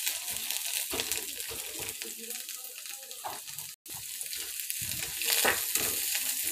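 Onion and curry leaves sautéing in a pan for masala rice, a steady sizzle with scraping stir strokes, heard under a voice speaking, briefly cut off once.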